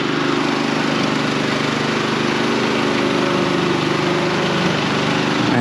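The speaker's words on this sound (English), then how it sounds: "still on generator," A portable power generator runs nonstop during a power outage, a loud, steady engine drone with an even buzzing hum throughout.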